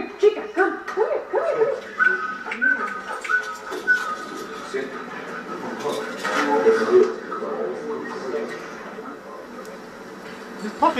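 A puppy whimpers, yips and barks in short, high bursts close by, mixed in with people talking excitedly over it.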